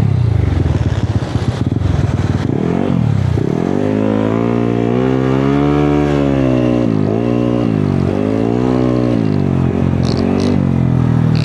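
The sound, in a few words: motorcycle engine warming up and revving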